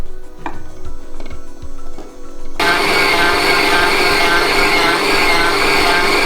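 A mixer beats cookie dough for chocolate-nut cookies, starting with scattered clatter and knocks before a loud, steady electric whir takes over and runs continuously to the end.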